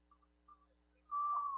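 Referee's whistle at a high school football game between Gunter and Roosevelt: one steady, fairly loud blast of about half a second, coming after a quiet stretch with faint low hum and a few brief chirps.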